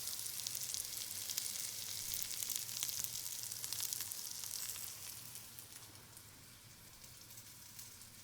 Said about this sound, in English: add rice and mix everything well